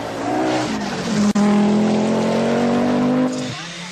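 Turbocharged Audi Quattro rally car flat out on a rally stage, a loud close engine holding a high rising whine with a sharp crack partway through, then backing off as it fades.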